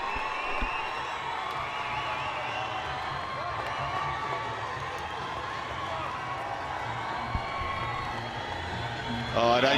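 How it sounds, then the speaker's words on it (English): A club rugby crowd of Prince Albert supporters roars after a try against Oudtshoorn, a broad sustained wash of cheering and whoops heard at a distance, with a commentator talking over it and a louder swell at the very end. "Look at the reaction of the crowd."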